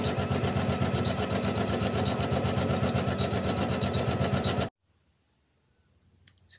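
Sewing machine stitching a hooded towel, humming in a fast, steady, close mechanical rhythm for several seconds, then stopping abruptly into near silence before a faint rustle.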